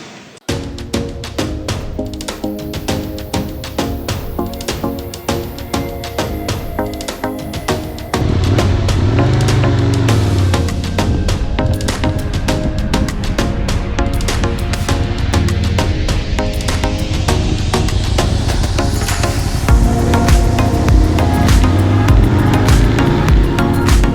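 An Aprilia RSV1000R motorcycle on a road test after clutch basket repair gives a loud, continuous engine roar with rising and falling revs and an audible gear change partway through.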